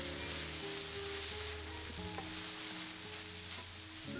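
Okara with dashi granules, mirin, soy sauce and salt frying in a pan, a dense steady sizzle with repeated scraping stirs of a utensil against the pan, close and continuous with no talk.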